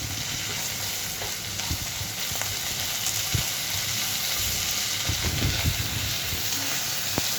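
Okra, potato and tomato frying and being stirred in a pan over medium flame for home-style aloo bhindi, a steady close sizzle with scattered scrapes and stirring knocks throughout.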